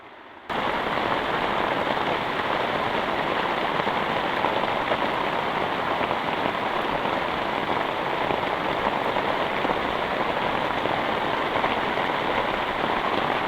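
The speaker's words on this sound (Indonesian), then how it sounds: "Hujan deras sama angin teman-teman." Heavy rain with wind falls on a hut beside rice fields at dusk. A dense, steady roar of rain on surfaces starts abruptly and stays loud and unbroken, with no voices.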